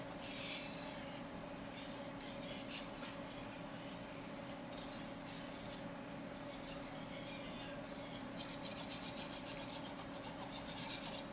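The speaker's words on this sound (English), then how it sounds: "Stirring my other sauce right here." Soft, steady scraping and rubbing of a spoon stirring sauce in a pan, faint and continuous for about eleven seconds over a low kitchen hum, with no talking.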